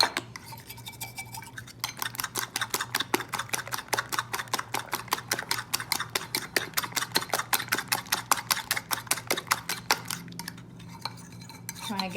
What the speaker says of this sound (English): Trying to get the custard powder well incorporated with the egg.